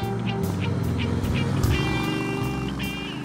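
A liquid-cooled six-speed 1200 bobber motorcycle engine with electronic fuel injection drones steadily and fairly loud, a constant low rumble running throughout with no speech.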